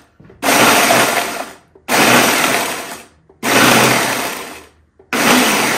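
A Ninja blender pulses cheesecake ingredients in four loud, roaring bursts of about a second each, separated by brief silences, with no talking.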